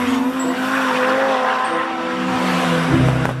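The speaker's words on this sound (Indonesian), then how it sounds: "Wih, ternyata ini mobil balap teman-teman." A toy race car sound effect plays loudly and up close, a steady engine drone with tonal revving that rises, then a tire squeal and skid near the end.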